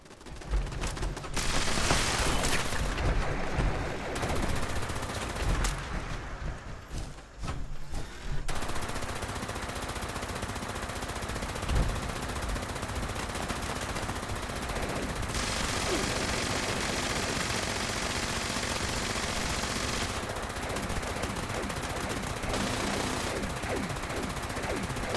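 Dense, sustained automated turret gunfire and shooting in Fallout 76, continuous rattling bursts with booming hits, loud and unbroken for the whole span with little pause.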